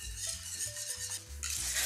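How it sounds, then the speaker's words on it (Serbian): Hot milk mixture being stirred in a pot on the stove, with soft scraping and clinking of a utensil against the pan over a steady low sizzle, close and continuous. "zalivamo sve sa 300 ml vrelog mleka i mešamo"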